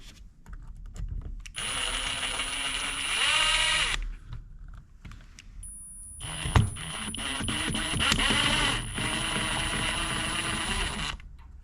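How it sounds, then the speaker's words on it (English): A power driver fitted with a T20 security bit backing bolts out of a Honda Rincon ATV, two loud whining bursts of several seconds each with a short pause and a clunk between them. "I think that one's a T20 that I'm going to use to take this out"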